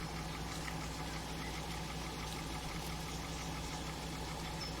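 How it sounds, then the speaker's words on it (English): A truck engine idling in the Transport Fever 2 video game, set in a desert landscape: a faint, steady low drone that continues unchanged throughout. "He's going to sit there now with these engine running for about 6 months."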